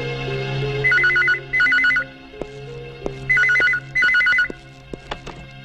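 A telephone rings with a warbling electronic ringtone in two pairs of short bursts, loud and close, with a few sharp clicks in the gaps and no one speaking.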